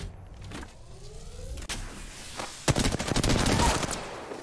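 Gunfire during an Apex Legends match on the Kings Canyon map: scattered shots at first, then a close, loud, sustained burst of rapid fire.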